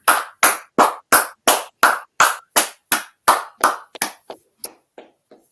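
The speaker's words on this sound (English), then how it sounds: "Let's clap it up." A class claps in unison with about fifteen sharp, evenly spaced hand claps close up, the last few growing quicker and fainter as the clapping dies away.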